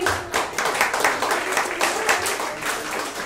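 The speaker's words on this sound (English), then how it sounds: "Clap your hands," A comedy club crowd claps, a thick run of fast overlapping handclaps that rises and dips slightly, with a voice faintly mixed in beneath the noise.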